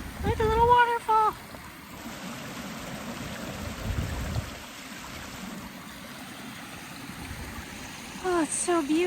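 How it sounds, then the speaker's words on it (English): A small waterfall on a hike on the outskirts of Pogradec, its steady broadband rush of flowing water running throughout, with brief voices and a few louder bursts near the start and end. "Look at the little waterfall."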